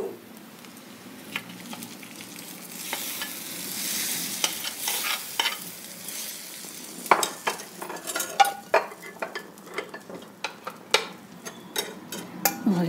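Fried tempering is tipped into a village-style curry and stirred, bringing a soft steady sizzle under a run of close, irregular scraping and tapping of a spoon against the pot.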